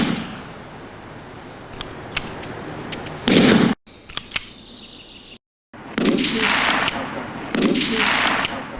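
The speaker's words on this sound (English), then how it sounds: "I told Tingley about my vision to make a painting bleed by shooting at it" Rifle shots fired into a plaster-relief painting with embedded cans and bags of paint, heard as a few sharp cracks followed by loud bursts and noisy spatter, separated by brief gaps of silence.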